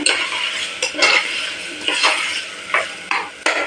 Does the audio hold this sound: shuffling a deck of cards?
no